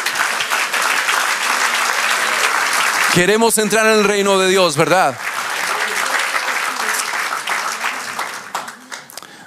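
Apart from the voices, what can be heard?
church congregation applause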